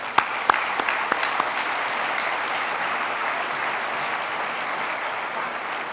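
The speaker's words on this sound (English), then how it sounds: "Let's give them all a round of applause." A city council audience at a Phoenix State of the City address claps in steady, dense applause, with a few sharper claps standing out early, holding at a fairly even level throughout.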